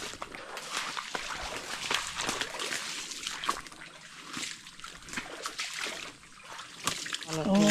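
Water trickles and splashes softly from a spring in a forest, a faint, continuous patter with people talking nearby.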